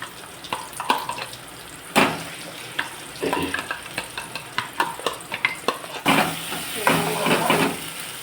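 Cluster beans sauté in a pan with sizzling and repeated scraping, clattering spatula strokes, uneven and close, growing busier toward the end.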